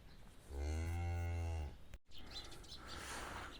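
A cow on open pasture gives one long, loud, deep moo lasting about a second, then a brief bump and quieter outdoor ambience with faint bird chirps.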